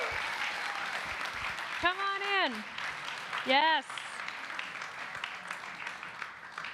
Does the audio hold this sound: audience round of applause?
yes